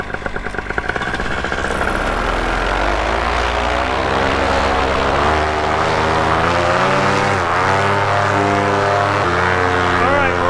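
A paramotor with an E-prop propeller flies at a fly-in, its engine a loud, close, continuous buzzing drone whose pitch rises and shifts as the throttle changes.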